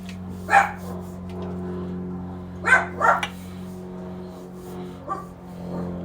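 A dog lets out several separate barks and yelps spaced a couple of seconds apart, close by, over a steady low indoor hum with no talking.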